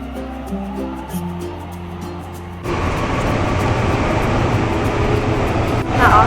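Steady, broad rumble from inside a moving train, a continuous close roar of wheels and carriage noise that rises after a quieter opening with faint tones, then a brief clatter near the end.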